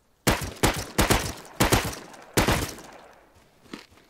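Gunfire in the Rust survival video game: five sharp, loud shots crack out in an uneven series over about two seconds, each ringing off into a decaying tail, then a faint later pop.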